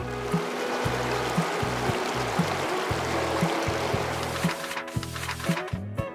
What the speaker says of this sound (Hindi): झरना तब बहता है जब पर्वत रोता है।